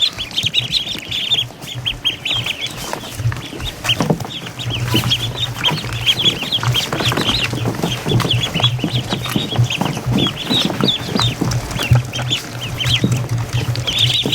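A flock of ducks pecking and pounding at a camera up close, with constant quacking and clucking and rapid tapping knocks throughout, loud and busy.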